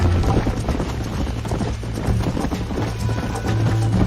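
A horse gallops in the video game Red Dead Redemption, its hoofbeats making close, loud, rapid clip-clop patter across the whole stretch.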